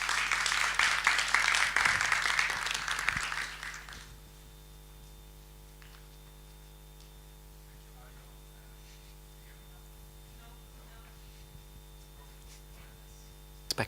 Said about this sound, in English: I would like to ask you now for a warm applause of the director of the Transmediale